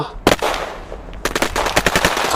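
Machine gun fire in Melon Sandbox, a video game: a single sharp shot, a pause, then a rapid burst of close, loud rounds, with no talk.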